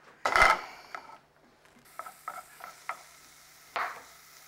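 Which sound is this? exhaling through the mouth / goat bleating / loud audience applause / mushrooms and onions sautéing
mushrooms and onions sautéing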